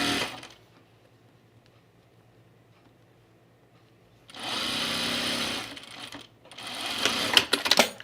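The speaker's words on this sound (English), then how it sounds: "put my gathering stitch into the seam allowance" A sewing machine runs a gathering stitch on a blouse in two close bursts of rapid, whirring needle action, the first steady and the second rougher and uneven, separated by a quiet pause.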